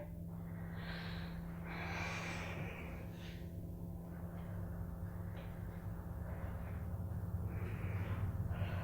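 Steady, even breathing during a leg and thigh workout, a run of regular breaths over a constant low hum.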